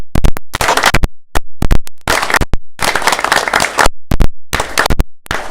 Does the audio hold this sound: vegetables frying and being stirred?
no